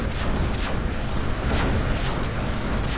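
A missile turret fires over and over in a futuristic tower defense video game, giving a loud, dense wall of booming blasts and rumbling explosions that never lets up.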